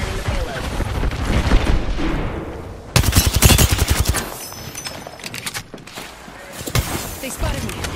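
Rapid bursts of automatic gunfire in an Apex Legends match, loud and close, a sharp rattling volley standing out mid-stretch among scattered shots, with game voice lines speaking over the action.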